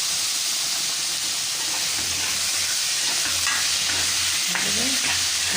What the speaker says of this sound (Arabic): هنصفر بقى اللحمه بتاعتنا وطلعها